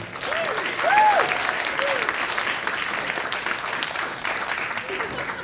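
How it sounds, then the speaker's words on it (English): Warm audience applause welcomes a speaker at a Nerd Night talk, a full, continuous wash of clapping from a crowd, with a few brief voices or whoops rising over it early on. "Let's give a warm round of applause to Michael Markowsky."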